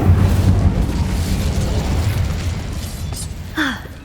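Incendio fire spell cast in the Hogwarts Legacy video game: a loud, sustained fiery roar and whoosh that slowly fades, with a brief high chirp near the end.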